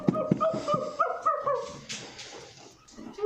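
A recorded dog whimpers and yips in short high bursts, fairly faint and close, over a few seconds with some background noise.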